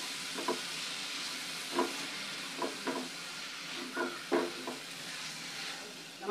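Oyster mushrooms frying with turmeric in a pan, stirred in a series of distinct scraping strokes over a soft, steady sizzle, close up and moderately quiet.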